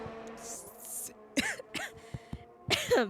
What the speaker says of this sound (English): Started coughing in the middle of my word.